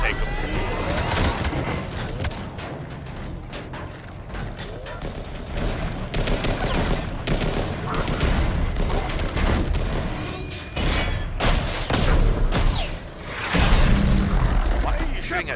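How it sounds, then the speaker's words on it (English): Mass Effect firefight: sustained rapid gunfire and scattered booms roll on continuously, with sharp bursts and a sweeping whine partway through, and voices speak over the battle at times. "Why are you shooting at me and not the shuttle I'm getting on?"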